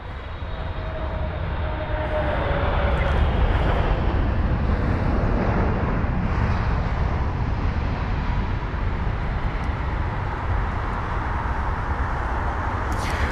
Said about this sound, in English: Here's the Kuwait Airways 777-300ER from Kuwait City.